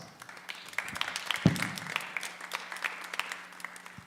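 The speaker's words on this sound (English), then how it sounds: "let's give Lisa Gore a round of applause" Audience applause at a natural bodybuilding show in Tucson: scattered, fairly light clapping from a crowd in a hall, with one sharper clap standing out and a low steady hum underneath.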